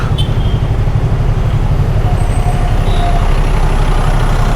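A truck's engine idles close by at the shade of a highway roadside stop, a steady loud low rumble that runs without a break and has no talk over it.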